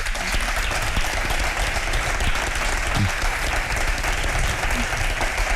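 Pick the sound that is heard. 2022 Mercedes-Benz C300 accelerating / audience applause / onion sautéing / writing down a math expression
audience applause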